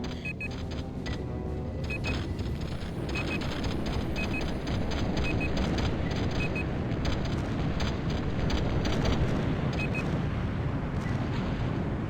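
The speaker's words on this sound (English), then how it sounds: "I've got some custom explosion sounds back in, which I used in my original Let's Play" Custom explosion effects in the Battlezone video game rumble loudly and continuously, with dense crackling blasts and faint repeated electronic beeps over the top.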